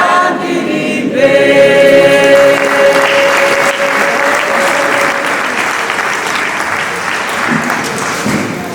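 A church congregation applauds loudly and continuously at a morning service as a sustained sung or held tone fades out early, leaving a dense wash of close clapping with some voices mixed in.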